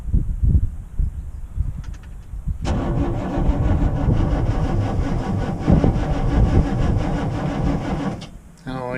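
Military Humvee HMMWV with a leaky fuel pump cranking on a cold start, the starter grinding rhythmically for several seconds before cutting off, close by, after a stretch of low background noise.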